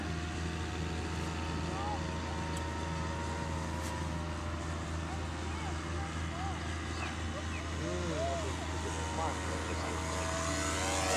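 A Piper Cub floatplane's propeller engine drones steadily at a lakeshore as it comes in to land, a constant humming tone with faint voices and wind around it.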